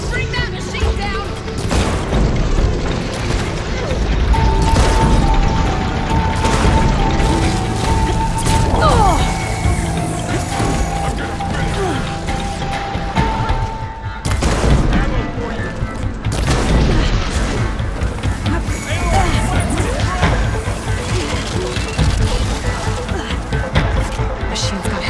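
Fight against a giant robotic machine in the video game Horizon Forbidden West, with continuous heavy booms, mechanical clanks and crashes layered over game music, loud throughout, and character voices calling out over the action.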